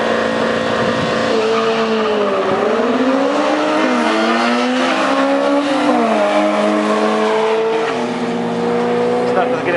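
A BMW 316 drag racing car on a drag strip in Kazlu Ruda, engine revving and climbing through gears in loud, near, sustained pitch sweeps, with an announcer talking over it.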